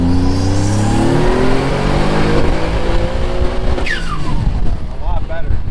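A built twin-turbo Mitsubishi 3000GT VR4 with a 6G72 V6 revs hard on a dyno under high boost, a loud steady engine roar with rising harmonics that climb and sweep upward through the run, with people talking over it.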